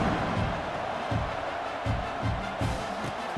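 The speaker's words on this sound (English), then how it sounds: "Kickoff unit is out there again, and this crowd is feeling themselves after that last drive." A college football stadium crowd at an Arizona State versus Oklahoma game roars in a continuous dense wash before a kickoff, with rhythmic swelling pulses suggesting chanting, heard from within the stands.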